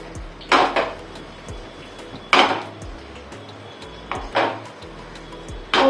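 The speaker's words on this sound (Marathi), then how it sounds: "तर सगळ्यात पहिले आपण इथे कांदा परतवून घ्यायचा आहे" Onions being sautéed in a pan on a gas stove for chowmein, heard as several loud scraping and clattering strokes of a utensil against the pan in separate bursts, with no talking.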